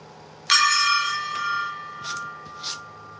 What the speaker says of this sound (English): We're going to get some hits from the gong to start the day